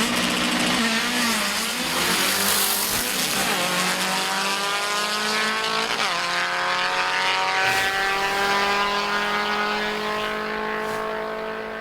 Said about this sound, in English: wanting to video a Volkswagen going into a wheel stand